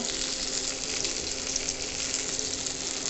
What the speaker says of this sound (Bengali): বেগুন ভাজাও হয়ে গেছে এখন বেগুন ভাজাগুলো তুলে নেব